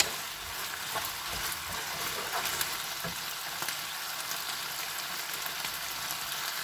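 Onions sizzle steadily in a hot pan during homemade pizza preparation, a continuous close hiss and crackle with no voices over it.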